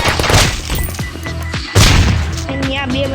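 Rapid gunfire and booming explosions from a shooting video game, dense volleys with a sharp loud burst near the middle, over a busy game soundtrack with a voice faintly in the mix.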